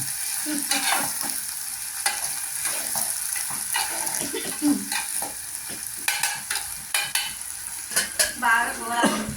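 Bitter gourd pieces fry in oil in a pan, a close, crackling sizzle with irregular stirring scrapes and bursts that grow busier toward the end.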